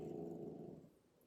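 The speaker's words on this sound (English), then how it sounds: "that was my Yorkie growling because he saw a bird out the window" A Yorkie gives a low, rumbling growl, set off by a bird seen outside a window, close but quiet, sustained for about a second before fading.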